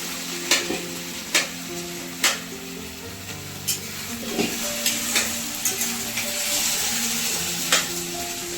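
Food frying and being stirred in a pan, with a constant sizzle and repeated sharp utensil taps on the pan at irregular intervals, and no talking.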